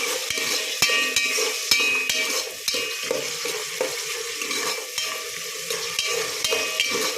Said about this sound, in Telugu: ఇదైతే వేగుతుంది కదా